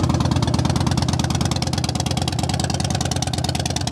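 A Harley-Davidson Dyna Wide Glide FXDWG motorcycle engine with 9,080 miles idles steadily and loud up close, its rapid, even V-twin pulsing rumble holding throughout with no talk over it.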